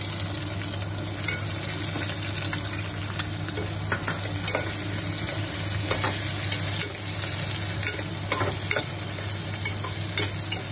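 Chopped onions and cashews fry in ghee in a pot for veg pulao, giving a continuous close sizzle. Scattered clicks and scrapes of stirring rise through it across the whole stretch, over a low steady hum.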